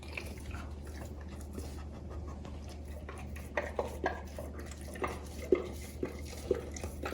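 Buster the dog licking a dish of squash puree, with soft wet laps and clinks of the bowl growing more distinct toward the end, close by over a low steady background hum.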